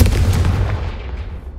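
Confringo fire spell cast in Hogwarts Legacy, a loud explosive blast that bursts out at once and then rumbles and fades over a second and a half, with no voices.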